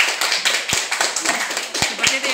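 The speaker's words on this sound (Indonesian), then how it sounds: "Tepuk tangan." Students clapping in a classroom after a group presentation on magnets, with several sharp, uneven claps mixed with a continuous wash of voices.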